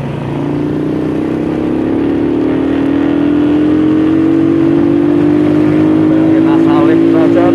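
A Honda Supra motorcycle engine accelerates on a mountain ride, its loud, close drone rising steadily in pitch as the throttle is held open, alone without talking.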